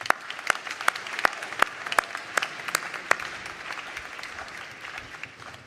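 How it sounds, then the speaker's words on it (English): An audience at a fall graduation ceremony gives a round of applause, steady, moderately distant clapping with a few sharp claps standing out, gradually thinning toward the end. "Join me in thanking them with a round of applause."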